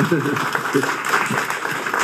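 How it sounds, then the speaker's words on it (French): A gathering at a lecture in Nice applauds its hosts: steady, dense clapping from a room of people that runs the whole time, with voices talking over it. "on peut d'ores et déjà l'applaudir bien fort"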